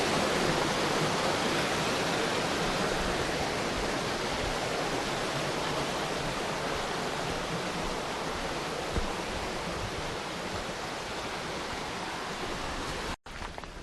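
A river in New Zealand rushes alongside a walking trail on the way to Curio Bay, a loud, dense, unbroken roar of flowing water that stays steady throughout.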